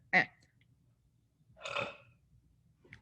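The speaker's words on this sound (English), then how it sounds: "hold on, I have to burp" Two short, close burps from a person during a chamber choir rehearsal, each standing alone with near silence between them.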